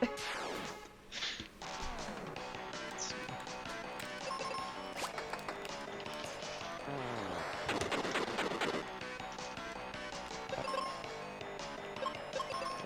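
Bomb enemies in Final Fantasy Mystic Quest set off a dense run of crashing, blasting bursts over game music, with repeated sharp impacts and booms throughout and a louder swell midway.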